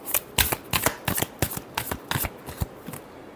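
A deck of tarot cards is shuffled by hand in a quick run of crisp riffling flicks, close and clear, lasting a few seconds with no voices.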